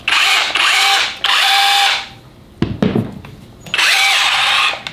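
A Festool KHC 18 cordless rotary hammer runs as a plain drill in close, loud bursts of high whine, stopping and restarting, with a short spell of handling clatter between the later runs.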